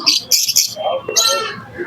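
Pigeons and other birds chirping at a busy village bird market, bright bursts of calls close by, mixed with people talking nearby.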